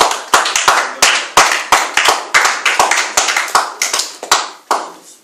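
A church congregation claps for God in a steady run of sharp, close hand claps. The claps come in quick uneven bursts with no talking.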